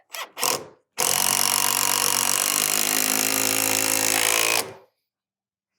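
A power driver sinks a 3.5-inch treated screw into a wooden shed door, with two short bursts followed by one loud sustained grinding whir of nearly four seconds, close up, without speech.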